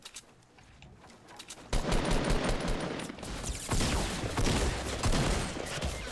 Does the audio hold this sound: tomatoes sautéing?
no